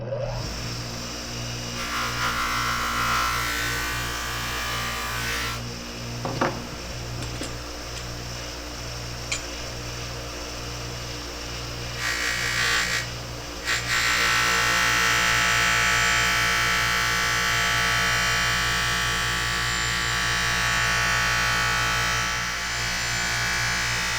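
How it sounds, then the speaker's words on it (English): A motorized buffing wheel polishes pitted, tarnished chrome on a mid-century modern utility table, giving a steady electric whine and hum with brief scraping contact noises and shifts in pitch and loudness as the piece is worked. "what I'm going to try to do is use the old buffing wheel, see if we can polish that out"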